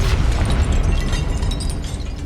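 A Confringo blasting spell explodes in the video game Hogwarts Legacy, a loud rumbling burst with crackling debris that rolls on for a couple of seconds.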